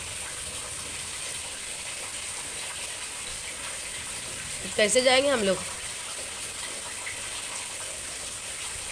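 Rainwater leaking through a house roof runs steadily into a bucket as a constant, quiet trickling hiss, with someone speaking briefly over it midway.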